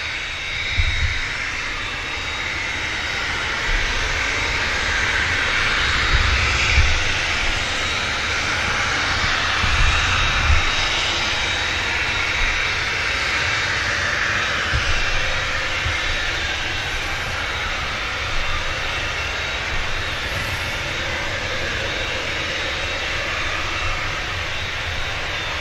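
An Emirates jet airliner starts moving out at Manchester Airport, a steady engine rumble and whine at moderate distance with a few low thumps along the way, no speech.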